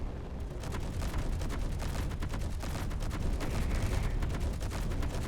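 Automated gun turrets blaze away in Space Engineers aboard a newly designed trading ship, a dense, continuous stream of rapid shots with booming low rumble running steadily throughout, no voices.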